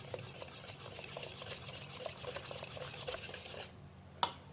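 Steady rhythmic swirling and scraping as powdered sugar is mixed into cake batter in a bowl, continuous close stirring strokes ending with a single sharp tap.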